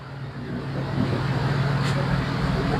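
A Buick's exhaust runs at a steady low rumble close by, a constant drone with a faint hum, while a person talks over it.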